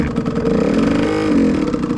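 A motorcycle on a learner's ride rolls forward under gentle throttle, its engine running at a close, steady mid-pitched rumble with a slight rise in revs.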